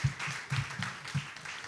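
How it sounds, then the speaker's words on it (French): Audience applause for a guest speaker at a French-language presentation event, a steady patter of clapping hands at moderate distance, fairly quiet and continuous with no talking over it. "Applaudissez plus fort."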